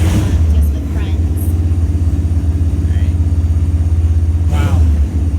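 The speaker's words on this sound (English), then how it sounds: "with a loud motorcycle in the background" A loud motorcycle engine rumbles steadily at a low idle throughout, close and heavy, with no one speaking over it.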